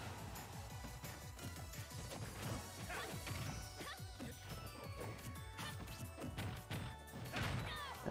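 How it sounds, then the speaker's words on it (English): Super Smash Bros match with Terry against Byleth and Captain Falcon, a dense run of sharp smash and whack hit sounds and thuds over game music, with a commentator's voice partly underneath. "Interesting forward smash."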